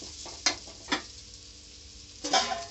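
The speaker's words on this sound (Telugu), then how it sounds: "5 నిమిషాలు అయిందండి, మూత తెరిచి కలుపుకోవాలండి." Lemon rice (pulihora) being stirred in a pan, heard as three short scraping, sizzling bursts spaced about a second or more apart over a faint background, with no talking.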